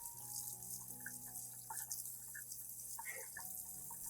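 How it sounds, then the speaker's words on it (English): Plant rinsed under clean running tap water, a steady soft stream with faint splashes and drips throughout, close and quiet, no talk. "rinse the plant under clean running water"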